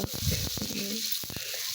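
Paratha frying in a little oil in a pan, giving a steady close sizzle with a few brief clatters and stirring knocks through the short stretch.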